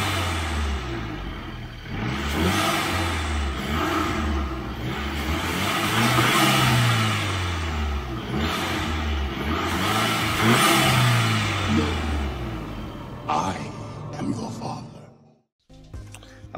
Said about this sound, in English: let me give you a few revs from the front so you can hear the induction kit